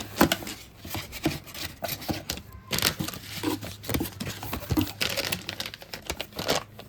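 A sealed plastic bag holding a Neve 88R LBEQ audio module is handled and crinkled up close, in continuous irregular rustling and crackling bursts without speech.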